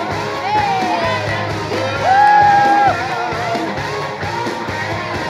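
Large stadium crowd at a Monster Jam World Finals event cheering, whooping and shouting. Loud sustained yells rise and fall over a continuous roar of the audience.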